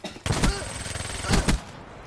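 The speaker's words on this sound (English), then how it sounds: "This thing fires like a machine gun." Rapid bursts of gunfire from a fast-firing weapon in the video game Black Ops 3, loud and close, with two dense clusters of shots about a second apart and a lighter rattle between them.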